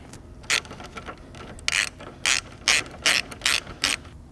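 A ratchet tightens a bolt on the supercharger pulley of an Audi B8 3.0T, giving about eight crisp clicking bursts in an uneven rhythm, close and clear with no speech.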